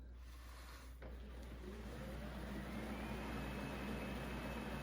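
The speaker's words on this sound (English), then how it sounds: "right now it is spinning the mopping pads at the bottom as well as soaking them" Beneath a Lydsto W2 self-cleaning robot vacuum and mop, the pads spin and soak in the docking station, giving a faint, steady whirring hum that holds evenly throughout.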